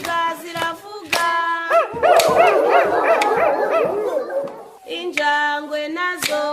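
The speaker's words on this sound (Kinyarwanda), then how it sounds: "imbwa ziravuga." Dogs barking in a Kinyarwanda children's song about animal sounds, loud repeated barks and yips over a sung, harmonic backing with clapping-like beats.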